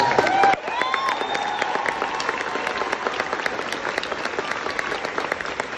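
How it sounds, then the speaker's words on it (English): Theatre audience applauding during a Hamilton West End cast change speech, loud, dense clapping from a large crowd that carries on steadily after a brief voice at the start. "So a round of applause for that."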